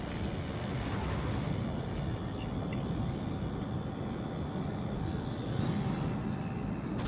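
Aircraft passing overhead in a naval warship video game, a continuous broad engine roar that stays loud and steady throughout, with no talk over it.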